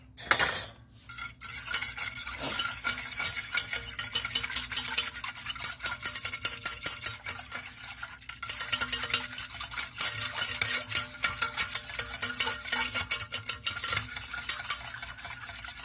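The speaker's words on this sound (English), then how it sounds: "Let's try whisking then." Whisk beating a strawberry lasagna dessert mixture in a bowl, rapid clinking and scraping strokes, close and fairly loud, continuing steadily after a brief pause near the start.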